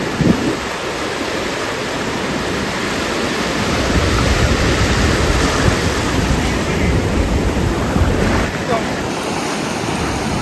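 Rough monsoon sea waves break on the shore during traditional rampan net fishing, making a continuous loud roar and wash with gusting wind buffeting the microphone.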